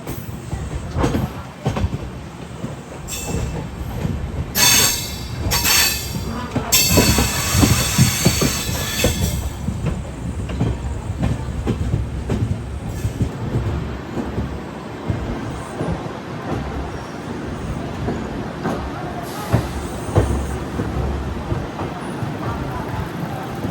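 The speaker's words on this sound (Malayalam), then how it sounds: "പ്ലാറ്റ്ഫോം 1 ഏതോ ഒരു നല്ല റെഡ് കളറിലെ ഒരു ഡെമോ കിടക്കുന്നുണ്ടോ, നൈസല്ല കാണാൻ." A red DEMU train at a railway platform gives a loud, continuous rumble and clatter, with short bursts of brighter wheel or brake noise early on. People talk over it.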